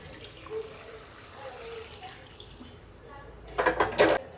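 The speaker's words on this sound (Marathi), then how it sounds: "मीठ टाकून आपण आता याच्यामध्ये मस्तपैकी पाणी टाकूया" Water is poured into a pan of pav bhaji after salting, a short loud splashing burst near the end, following quiet kitchen sounds with a voice speaking softly.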